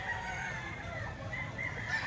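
A rooster for sale at a poultry buyer's market crows loud and close, its long call sustained over a steady din of background noise.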